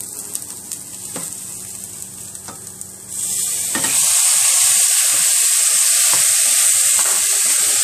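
Meat browning in a pot sizzles close up, a quieter crackle with a few stirring knocks that suddenly swells into a loud, steady hissing sizzle.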